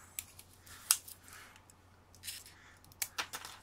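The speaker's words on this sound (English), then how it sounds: "I might use some scissors" Several short, crisp snips from a pair of scissors cutting during a MacBook Pro battery teardown, close up and fairly quiet, scattered irregularly with pauses between cuts.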